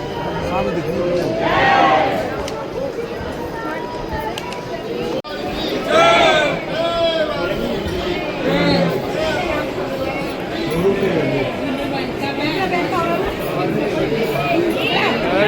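A busy crowd outside a temple during a birthday celebration with festive lighting, a continuous mix of many overlapping voices chattering nearby, with louder individual calls rising now and then above the murmur.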